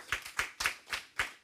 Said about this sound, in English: maybe we can give the panel to applause